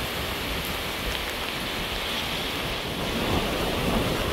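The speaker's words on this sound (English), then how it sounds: "Look at those waves out there." Ocean waves on a stormy day at Pangulasian Island, El Nido, a steady broad roar of surf mixed with wind buffeting the microphone, loud and continuous without a break.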